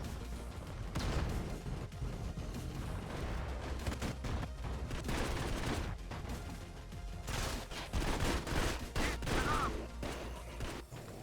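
Rapid gunfire in the iOS shooter Modern Combat 5 during a competitive match, a dense, steady barrage of loud shots and impacts with brief bursts standing out over constant battle noise.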